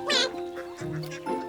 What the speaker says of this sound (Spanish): la mamá pata solo hace cuac para recuperarlos